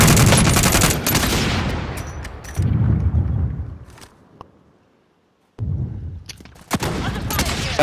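Heavy gunfire in a shooter video game, including a sniper rifle shot: loud bursts of dense, overlapping shots that fade into near silence and then start again in sharp cracks.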